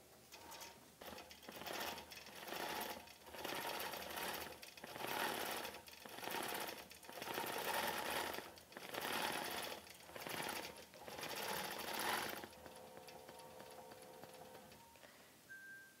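A computerized quilting machine stitches a cross stitch quilt in a rapid mechanical chatter, pulsing in roughly a dozen rhythmic bursts before settling into a quieter hum and a brief beep; no one speaks.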